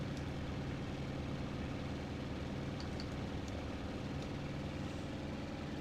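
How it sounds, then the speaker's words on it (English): An overheating A6M5 Zero aircraft engine in the flight game IL-2 Sturmovik gives a steady, loud, dense drone that holds unchanged throughout, with no voices over it. "Engine's overheating."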